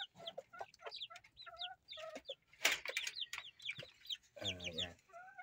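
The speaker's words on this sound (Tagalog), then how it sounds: "ito yung kanila mga sisiw" Chicks and hens in a chicken coop, with high peeping chirps and clucks repeating throughout, close and fairly loud, and one harsher squawk partway through.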